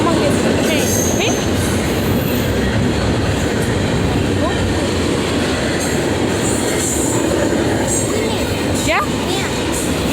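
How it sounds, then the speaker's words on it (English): A long freight train rolls past close by, with a loud continuous rumble, clattering wheels and occasional squeals throughout. A voice briefly speaks over the noise. "It's going to pass after this humongous train."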